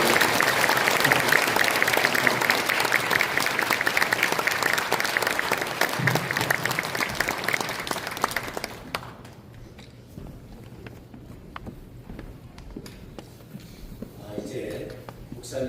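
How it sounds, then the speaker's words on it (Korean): A church congregation breaks into applause during a Korean service honoring pastors and retiring elders, a dense wash of clapping that stops abruptly after about nine seconds, leaving a quiet room with light shuffling and faint speech. "박수로"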